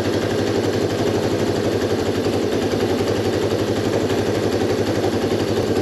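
A motorcycle engine idling steadily and loudly up close while the carburetor fuel screw is adjusted, its rapid even pulsing thrum continuous throughout with no pauses.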